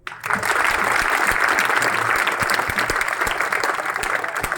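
Children clap after a short school play about child marriage. The applause is dense, loud and sustained, and it starts abruptly and continues steadily throughout.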